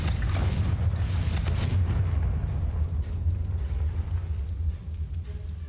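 Confringo explosive curse in Hogwarts Legacy, a loud rumbling blast that rolls on and fades slowly into a low boom.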